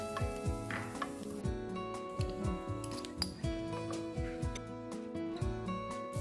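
Two chopped onions fry with ginger garlic paste in a pan, giving a continuous soft sizzle broken by repeated scraping stirs and light clinks of utensil on metal, close and fairly quiet.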